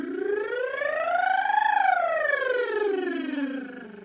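A human voice imitates a siren with a rolled R, sliding smoothly up to a peak and back down in one continuous sustained glide, close and clear.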